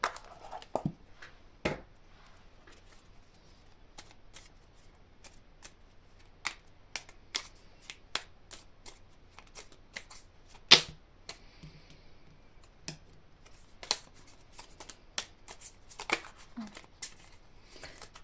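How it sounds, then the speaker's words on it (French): A small colour oracle deck is shuffled for a card reading, giving sparse, quiet clicks and riffling flutters in short bursts against a near-silent room. "je vais clôturer le tirage avec le petit oracle des couleurs de Claire Duval."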